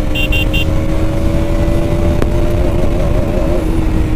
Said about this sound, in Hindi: लिमिटर ये हिट करता है ऐसे, मक्खन की तरह स्पीड पकड़ता है।